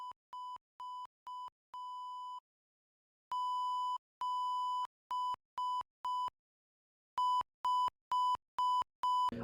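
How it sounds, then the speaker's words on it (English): Morse code beeps from the video game Identity Fraud sound as a clean, steady electronic tone keyed in short and long pulses, grouped with pauses between runs. "I don't think I need to explain Morse code, aside from the fact it's a series of beeps that translate into letters and numbers"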